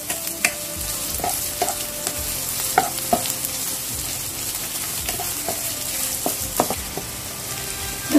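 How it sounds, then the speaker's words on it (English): Dried chilies frying in a pan for clam sorpotel give a steady sizzle, with sharp scrapes and clicks of a stirring spoon breaking through at irregular intervals. "We'll cook till the chilies turn soft."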